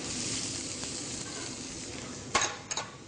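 Chopped onions sizzle in hot olive oil in a non-stick pan, a steady close frying hiss, with a couple of brief utensil scrapes near the end.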